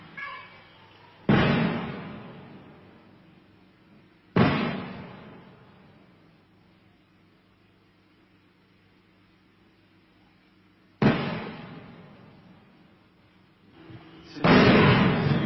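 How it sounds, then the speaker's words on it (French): Four heavy distant booms of 105 mm artillery fire near Angkor, spaced several seconds apart, each rolling away slowly over a quiet outdoor background. "On entend un coup de feu là."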